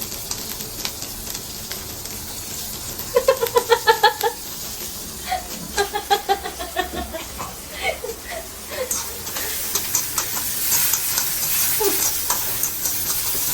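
Vegetables are stir-fried for noodles in an ordinary home kadhai, tossed over high heat. A continuous sizzle and hiss rises and falls, with voices breaking in over the cooking partway through.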